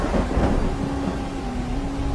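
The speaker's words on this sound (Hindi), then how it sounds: "एक बार जंगल में तेज बारिश और तूफान आया।" A thunderstorm with heavy rain in a forest setting, a loud continuous low rumble and dense rain hiss filling the whole stretch without a break.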